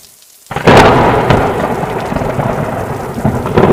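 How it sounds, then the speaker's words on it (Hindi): After a moment of quiet, a heavy downpour bursts in with a deep rumble of thunder, then steady loud rain continues. "कुछ दिनों में बारिश का मौसम भी आ जाता है और तेजी से बारिश शुरू हो जाती है"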